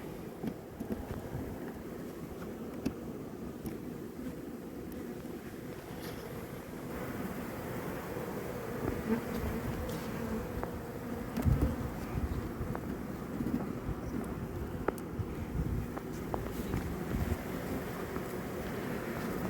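Honey bees buzzing around a hive of extruded polystyrene foam during spring work, a continuous low drone close to the microphone, with light wind rumble and a few soft bumps and knocks mixed in.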